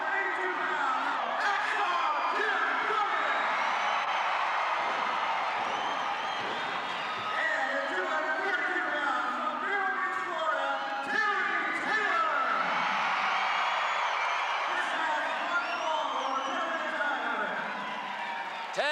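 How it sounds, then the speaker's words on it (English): A wrestling arena crowd in Tulsa roars and cheers without a break, with whoops and applause mixed into a loud, steady wall of noise that runs the whole time. "We've got a great crowd here in Tulsa"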